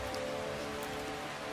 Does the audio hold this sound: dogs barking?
no